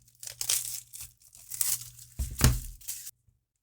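Packaging on a new W.I.T.C.H. oracle card deck is torn and crinkled open, several close rustling rips across a few seconds and ending with a louder tear.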